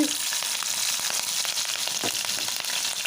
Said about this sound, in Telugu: ఈ ఆయిల్ని కూడా మంచిగా హీట్ అయిన తర్వాత ఇందులో జీలకర్రని యాడ్ చేసుకోవాలి పచ్చిమిర్చి